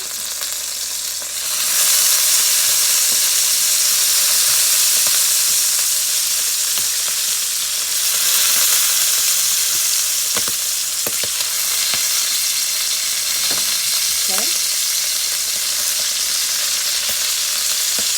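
Longanisa sausages fry in a pan with a loud, unbroken sizzle that holds for the whole stretch, with a few faint clicks and a brief spatter pop late on.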